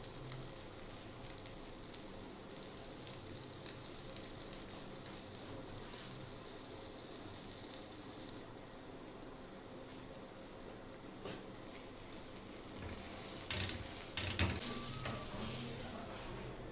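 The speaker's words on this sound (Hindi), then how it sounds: "एक से 2 मिनट आपने इसी तरह इसे पकाना है ताकि अंडा जो है अंदर तक अच्छी तरह पक जाए।" Spicy bread omelette slices fry in a pan with a soft, steady sizzle. A few light clinks and scrapes come near the end.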